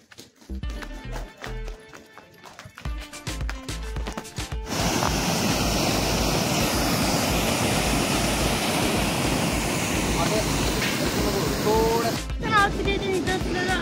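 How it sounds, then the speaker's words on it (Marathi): Waterfall at Naldurg Fort, a steady loud rushing roar of falling water that fills the middle of the clip, preceded and followed by footsteps or hoof-like clatter and brief talk. "असा काय धबधबा इथे वाहतो"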